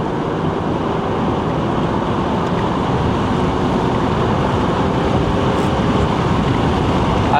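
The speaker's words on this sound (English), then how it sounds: "I would say that's a working engine." A rebuilt Infiniti car engine runs under load while driving, heard as a steady, close, continuous rumble mixed with road and wind noise, with no talk.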